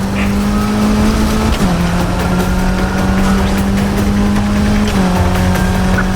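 A racing car engine in a video game drones at a steady high pitch, dipping briefly twice as if shifting gears, loud and continuous with a busy mechanical backdrop.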